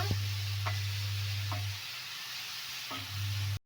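Grated carrot fries in ghee in a pan for carrot halwa, a steady close sizzle with a few light stirring scrapes and a low hum underneath.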